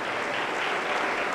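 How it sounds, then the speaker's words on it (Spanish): A church congregation applauding during a service, a steady, moderately loud burst of many hands clapping together. "Aplauso para el Señor Jesús."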